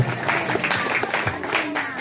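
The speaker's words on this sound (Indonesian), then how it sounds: "Tepuk tangan untuk kita semua Bapak Ibu." A crowd at a thanksgiving gathering in Siak, Indonesia applauds steadily, a dense wash of clapping that holds at an even level throughout, with faint voices mixed in.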